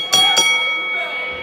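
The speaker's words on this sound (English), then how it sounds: "As soon as Brian McKay calls for the bell, we'll be underway" A wrestling match starting bell struck twice in quick succession, ringing out briefly over ongoing commentary and crowd ambience.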